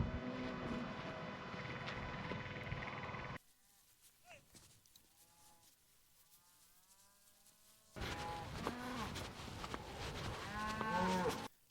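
Cattle on a farm near a campsite moo repeatedly as a farmer herds them, long lowing calls at a moderate distance, with a quieter pause in the middle and occasional background sounds.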